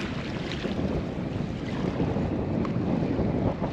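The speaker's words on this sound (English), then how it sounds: "Hope this wind drops out." Wind gusts across the open sea around a small fishing boat off the Australian coast, a steady rushing roar with microphone buffeting and faint wave wash, no voices.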